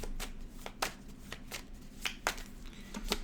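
Cards being shuffled close up, a quick series of crisp riffling snaps repeated at an uneven rhythm over a quiet background.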